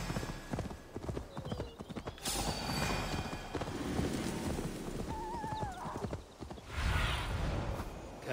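Horse hooves clip-clopping in Assassin's Creed Valhalla, a steady run of hoofbeats with occasional whinnies, creaks and game ambience, with no talk over it.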